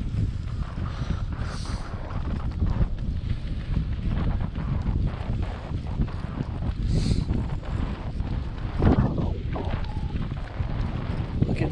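Strong wind buffets the microphone continuously during an outdoor 5K/10K time-trial race, a loud, roaring rush that never lets up, with faint footsteps and occasional sounds mixed underneath.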